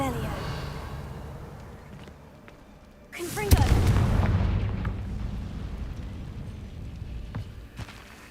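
A Confringo blasting spell erupts in the Hogwarts Legacy video game, a single loud booming explosion midway that rolls into a fading rumble over quieter game ambience.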